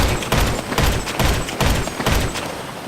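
Scoped assault rifle in GTA 5 firing rapid bursts, a string of loud sharp shots in quick succession with brief gaps between volleys.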